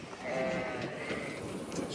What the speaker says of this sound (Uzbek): Muhammad Alining qo'ylari sotilibdi.